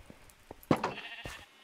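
Sheep in Minecraft bleating, a few short blocky game bleats with the loudest one near the middle, clear and alone without talk.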